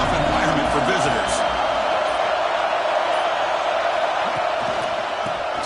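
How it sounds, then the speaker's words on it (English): Stadium crowd at a football game roars in a steady, dense wash of cheering and whooping throughout, with a commentator's voice talking over it. "Listen to the crowd energy here in the early going"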